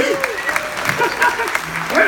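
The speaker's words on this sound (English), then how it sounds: "you all owe me a round of applause" An audience at a comedy show applauds, a steady wash of clapping with cheers and whoops mixed in, loud and close throughout.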